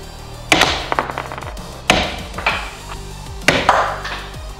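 An impact hammer strikes a small 3D-printed PLA test sample, giving three sharp separate cracks spaced about a second and a half apart, each with a short ringing tail, loud and close.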